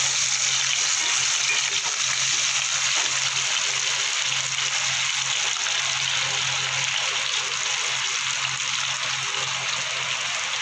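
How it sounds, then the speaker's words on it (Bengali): Cut potatoes go into hot oil tempered with black cumin, and a loud, continuous sizzle fills the whole stretch at an even level. "এবার কেটে রাখা আলুটা দিয়ে দেবো।"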